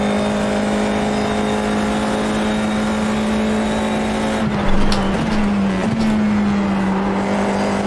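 A Formula 4 iR-04 race car engine in iRacing holds a loud, steady tone under acceleration, with a brief dip and rise partway through, alone with no talk.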